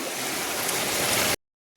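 Swollen river water pours into flooded fields and full drains with a loud, continuous hiss-like rush, close and unbroken until it cuts off abruptly into silence.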